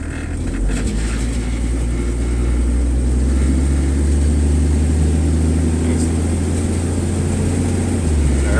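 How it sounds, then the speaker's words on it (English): A 1963 Ford Falcon Futura engine drones steadily while the car pulls along in second gear, a continuous low rumble with an even, smooth hum and no break from the shift. "There it was, second gear. Nice and smooth."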